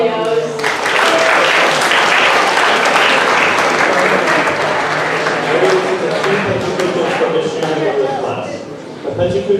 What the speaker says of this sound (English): another round of applause for all the New Media 10 videos